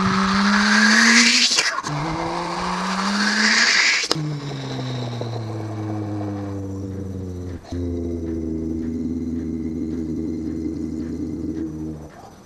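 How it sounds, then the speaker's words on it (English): An '83 Toyota Supra with forged internals and a ball-bearing, oil-injected T88 turbo revs hard, two loud, rising pulls broken by sharp cracks, then settling into a steady, droning idle with faint turbo whistle and occasional pops. "it's an old '83 Supra, forged internals, and T88 Whistler turbo"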